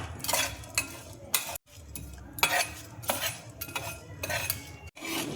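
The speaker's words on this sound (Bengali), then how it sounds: "এগুলো সব আমি ড্রাই রোস্ট করে নেব।" Whole cumin, cloves and garam masala spices dry roasting in a pan, heard as steady scraping and stirring clinks from a utensil with short bursts of rattling, close and continuous, with no speech.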